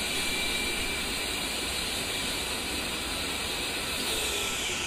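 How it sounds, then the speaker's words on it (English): Twin jet engines of an A-10C in DCS World idling steadily after the APU is shut down, a constant broad roar with a high whine and hiss, close and unbroken throughout. "With both engines now running and powering the left and right AC generators, we can turn off the APU generator"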